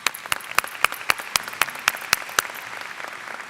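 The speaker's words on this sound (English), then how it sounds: "So please join me in giving them our first round of applause." An audience at a TWU graduation ceremony breaks into applause, a sparse, fairly loud patter of individual claps with a few sharp, prominent hand strikes rising above the rest.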